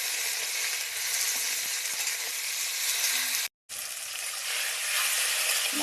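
Onion, tomato and green chili sizzle steadily in hot oil while being stirred, a loud continuous frying hiss that drops out for a moment near the middle before resuming.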